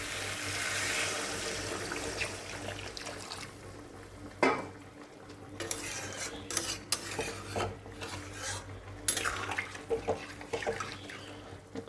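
Hot water is poured into a pot of fried spices for a fish and vegetable curry and stirred, giving a running, splashing wash followed by scattered clinks and scrapes of a spoon against the metal pot.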